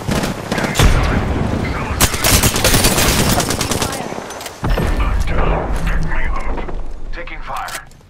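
Grenade explosion and gunfire in a shooter video game, a dense stretch of loud overlapping shots and blasts with a sharp boom midway, followed by more firing and game effects.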